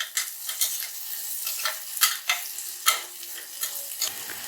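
Onions and green chillies frying in a pan for Muslim-style pulao, a light sizzle broken by regular scraping stirs with a spatula every half second or so, close and alone without talk.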